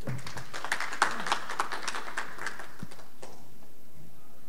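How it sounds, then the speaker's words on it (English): Scattered audience applause at the TVET in the Caribbean Conference 2019 graduate forum starts brisk, thins into separate claps and fades out after about three seconds, leaving a quiet room. "Please give him a round of applause."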